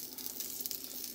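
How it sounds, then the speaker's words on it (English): Bacon frying in a new cast iron skillet, a steady close hiss of sizzling fat with faint crackle and pops throughout, no voices. "Now I'm just cooking this bacon up."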